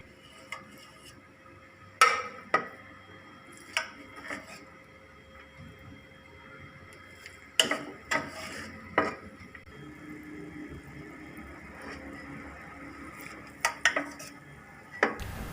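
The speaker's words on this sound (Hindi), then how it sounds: "अब हम चावल निकाल के डिश आउट करेंगे।" Aloo pulao rice being served out onto a dish, with sparse, sharp clinks and scrapes of a spoon against pots and plates scattered over quiet kitchen background, a few louder clatters standing out.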